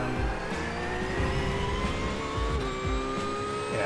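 A race car engine in the iRacing sim, practice lapping among GTP and LMP2 prototypes, drones loud and continuous with rising and falling pitch as the revs climb through gears and ease off for corners.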